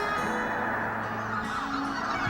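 Snow geese resting at Mud Lake wetland during spring migration, a dense continuous chorus of honking from a large distant flock, steady and overlapping.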